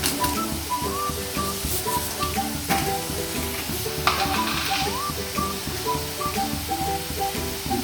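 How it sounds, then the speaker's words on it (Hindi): Cheese sauce with cream and chili flakes being stirred in a pan over low heat: a steady close sizzle with spoon scrapes and clinks, music playing underneath and no talking. "इन सबको अच्छे से मिक्स कर लेना।"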